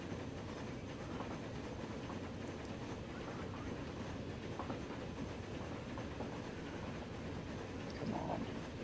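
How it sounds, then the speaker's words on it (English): A train in the Transport Fever game rumbles steadily into a station, a continuous low mechanical drone with faint clatter, quiet and unbroken. "A decent train wants to arrive in the station."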